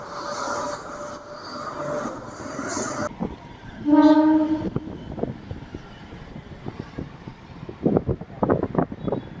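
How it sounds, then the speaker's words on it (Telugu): A crowded MEMU train pulls out of Yelahanka station. A rumbling carriage gives way to a loud horn blast with strong harmonics, followed by repeated clattering rail thumps that grow busier. "యలహంక నుంచి మన ట్రైన్ బయలుదేరింది."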